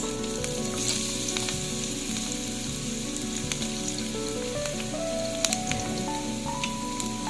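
Sardines browning in a frying pan for pansit bihon give a loud, constant close-up sizzle and crackle, with a few sharper pops and some faint stirring.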